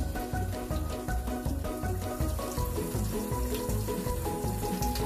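A kitchen faucet runs in a continuous, loud stream close by, with splashing and some rhythmic knocking underneath as a pet bird plays in the water.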